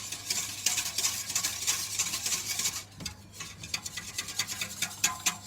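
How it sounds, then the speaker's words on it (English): A whisk beats curry sauce hard in a pot, giving fast rhythmic scraping and clicking strokes, loud and close, with a short pause midway before the vigorous whisking resumes. "Just whisking it really aggressively to make sure that there's no lumps"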